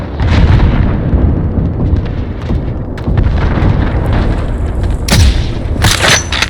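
A cruise missile launch in the Modern Warfare video game's ground war mode sets off loud, close booms and rumbling blasts over a dense roar of battle, with sharp bursts near the end.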